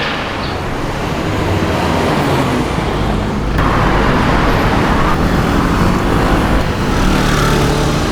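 Steady, loud street traffic rumbles at a bus stop, a continuous wash of passing cars and heavier vehicles close by with no pauses.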